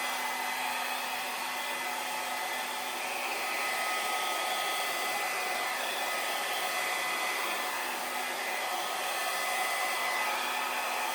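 A hair dryer blows across wet acrylic pour paint in a Dutch pour, a steady continuous whooshing hum that holds at an even level from start to finish, with no talking.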